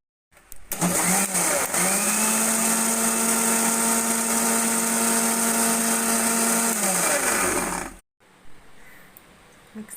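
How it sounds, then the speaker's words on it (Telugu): A kitchen mixer grinder churns several days' worth of cream with a little water to make butter, its loud steady motor whine running continuously for about seven seconds before cutting off, leaving faint room noise. "దీన్ని మిక్సీలో వేసుకుని కొంచెం నీళ్ళు పోసుకుని తిప్పుకుంటే"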